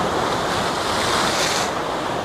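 Sea waves wash steadily onto the seashore, a loud continuous surf roar with wind buffeting the microphone.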